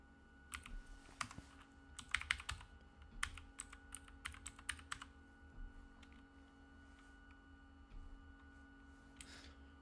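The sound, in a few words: typing a command on a computer keyboard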